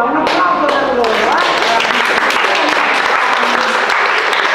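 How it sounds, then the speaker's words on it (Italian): Loud, dense audience applause at an outdoor summer event in Pontinia, Italy, steady clapping throughout with some voices and cheers mixed in the crowd. "Vengono da Roma, un applauso per loro."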